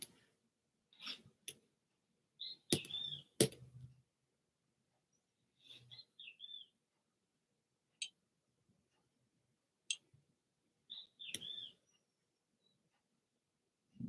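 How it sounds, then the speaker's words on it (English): Birds calling outside in short, scattered chirps and trills, separated by quiet gaps, fairly faint and with no talking. "No, it's the birds outside. That's what you hear."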